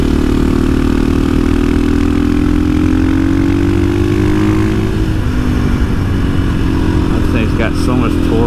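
A KTM 500 motorcycle converted to supermoto runs with a loud, continuous close-up engine drone whose pitch holds steady and then dips slightly, with wind rush over it.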